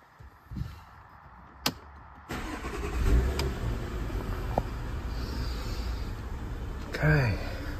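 A few clicks, then a Porsche Cayenne engine with an AGM stop/start battery turns over and catches, settling into a steady, rumbling idle that carries on to the end.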